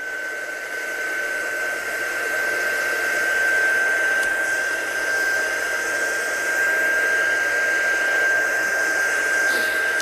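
A hair dryer blows steadily over a card painted in watercolour, a continuous close whoosh with a thin high whine, loud and even throughout with no talking.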